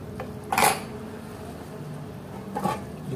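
A metal lid is set onto a cooking pot of potato leaf soup, giving two short clanks about two seconds apart over a quiet kitchen background.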